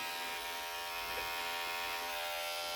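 A Zoofari electric clipper for animal hair running steadily, a close, even motor buzz with a constant pitch and no talking.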